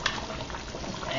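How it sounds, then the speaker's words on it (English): Brown stew chicken simmering in a covered pot, a steady low bubbling hiss that stays even and close throughout. "it's going to be simmering for about a good 35 minutes"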